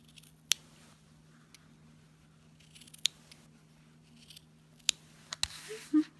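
Scissors snip a knitted steek in a handful of sharp, isolated cuts spaced about a second or two apart, close and quiet over a steady low hum.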